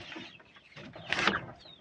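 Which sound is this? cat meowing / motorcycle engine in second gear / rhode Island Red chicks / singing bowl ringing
rhode Island Red chicks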